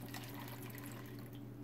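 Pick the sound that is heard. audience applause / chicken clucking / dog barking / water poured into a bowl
water poured into a bowl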